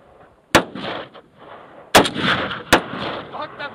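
Gunshots at a Salt Lake City shooting gallery: three sharp, loud reports spaced irregularly, each followed by a ringing, echoing decay, with no speech between.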